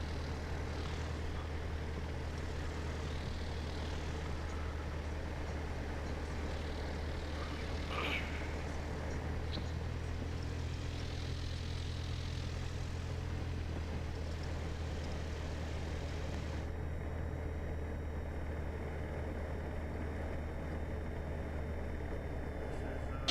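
Small propeller airplane taxiing at Saint Augustine airport, a steady droning engine hum heard from inside the aircraft, with faint intermittent voices over it.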